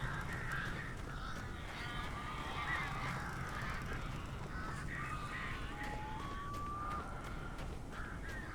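In the video game Alan Wake, crows give harsh cawing calls over a dense, noisy ambient backdrop, the calls overlapping at a steady pace and never fading out.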